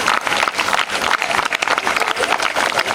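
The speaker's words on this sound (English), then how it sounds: "claps go" School audience at a Republic Day function clapping together, a continuous dense patter of many hands, steady and moderately loud throughout, with no one speaking over it.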